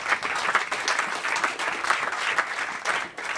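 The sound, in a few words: audience applause for Barry Smit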